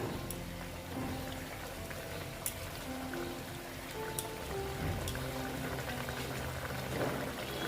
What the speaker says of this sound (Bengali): ঝোলটা ফুটে উঠেছে এইবার আমি মাছগুলো দিয়ে দিচ্ছি